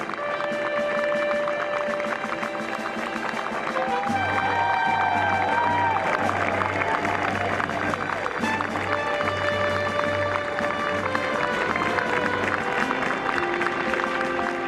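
The gallery at the Masters golf tournament applauds and cheers Arnold Palmer in his final round, a sustained, dense wash of clapping and crowd noise with steady music and a low tone playing alongside it.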